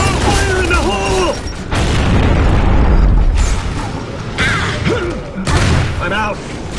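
Grenade explosion during a Gears of War 3 two-versus-two multiplayer match, heavy booming blasts and crashing debris layered with game voices and musical tones, loud and close throughout.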